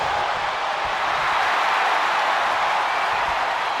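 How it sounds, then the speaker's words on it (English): A capacity arena crowd in a WWE 2K24 wrestling match keeps up a dense, steady roar of cheering and scattered clapping, loud and continuous with no talking over it. "You can hear this capacity crowd behind the Florida man."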